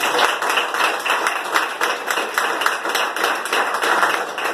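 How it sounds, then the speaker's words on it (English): Graduates' audience at a forklift certification ceremony claps steadily, a dense unbroken patter of many hands filling the room at moderate loudness. "Let's give him a round of applause."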